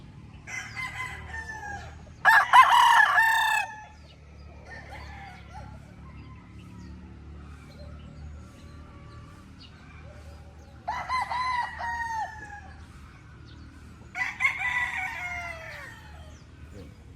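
A Sweater breed gamefowl stag crows several times, loud bursts separated by long pauses, with softer clucking and farmyard background between calls.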